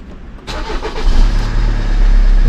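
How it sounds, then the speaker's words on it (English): A Kia Sorento engine cranks and catches with a sudden loud surge, then settles into a steady, rumbling idle close by. "Okay, so the car has started."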